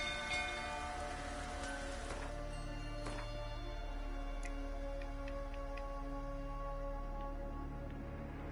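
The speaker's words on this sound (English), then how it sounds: "Looks like rain." Rain falls steadily in The Witcher 3: Wild Hunt, a faint, even hiss of drops with occasional soft ticks and a low ambient hum underneath, no voices.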